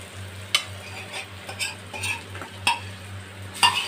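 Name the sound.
stirring boiled dal with fish head in a pan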